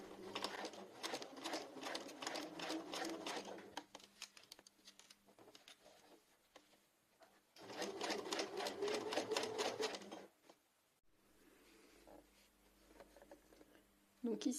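A sewing machine stitches a T-shirt hem with a twin needle in fast, rattling bursts, running for a few seconds, pausing, then running again, while someone talks quietly between and over the runs.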